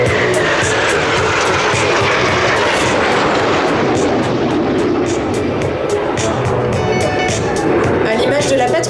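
Patrouille de France solo jets roar through a crossing turn at the La Ferté-Alais airshow, a loud sustained engine rumble filling the sky, with an announcer speaking over the noise.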